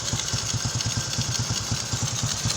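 A Honda XRM125 motorcycle engine converted from fuel injection to carburetor idles steadily nearby, with a rapid, even chugging pulse and a rattly mechanical edge, no other sounds.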